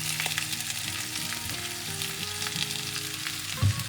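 Meat hisses and crackles as it fries in a pan with softened onion, garlic and ginger, a strong, steady sizzle up close, with a thump near the end.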